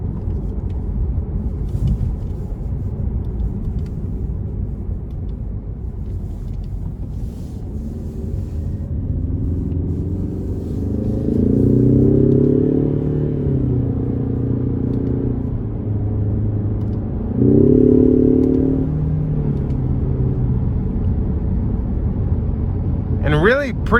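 A 2021 Ford Mustang EcoBoost Premium accelerates with manual shifts through its 10-speed gearbox, its rising engine note climbing twice in sweeping pulls over a constant cabin road rumble, heard from inside the car.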